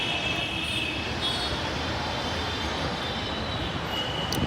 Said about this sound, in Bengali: এটা হচ্ছে মেট্রো রেল